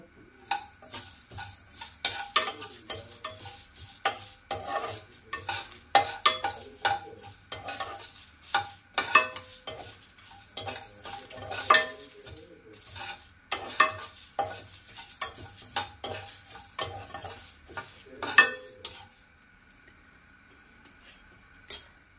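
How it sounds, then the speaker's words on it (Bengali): Dried red chillies and bay leaves fry in hot oil as a spoon stirs and scrapes the pan in irregular bursts over a faint continuous sizzle, close up, with no one talking. "দিয়ে এটা একটু আমি ভেজে নেব।"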